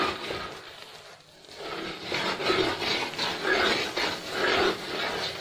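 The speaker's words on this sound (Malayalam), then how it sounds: "സോ നമ്മൾ നന്നായിട്ട് ഇളക്കി കൊടുക്കുക." A spoon works through thick coconut flower lehyam cooking down in a pan with ghee, making soft scraping and rubbing sounds in uneven strokes. The stirring is close and moderately loud, with brief pauses between strokes.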